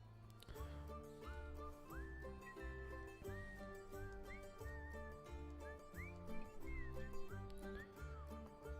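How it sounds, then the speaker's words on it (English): A jaunty, upbeat instrumental tune from the video game Divinity: Original Sin, with a bouncy bass line and a whistled melody weaving over it, played at a steady moderate level. "Nice little jaunty tune with whistling in it."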